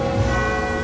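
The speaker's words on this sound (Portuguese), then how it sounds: "O sino das igrejas tocava" Church bells in a town during a wartime air-raid drill, a single brief sustained ringing tone with a humming resonance, moderately loud and heard alone.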